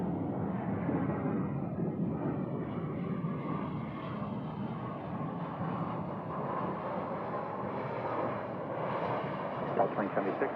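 An airliner rolls along runway 25 right at Phoenix Sky Harbor airport, a steady, loud, broad engine roar that fills the whole stretch while voices and radio chatter talk over it.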